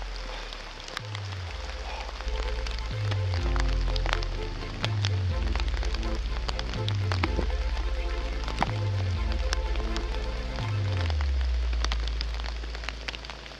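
Steady, continuous rain falls in a dense forest, a constant patter with sharp individual drops standing out, under a faint repeating low thump and some talk.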